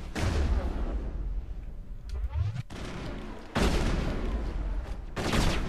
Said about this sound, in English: Who's shooting us? Geth? What are the Geth doing down here?